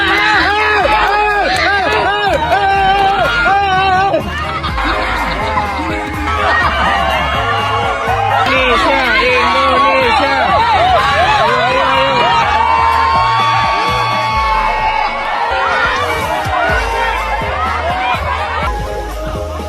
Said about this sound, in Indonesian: Anak-anak berteriak memberikan dukungan, sementara orang dewasa di pinggir lapangan tidak kalah hebohnya.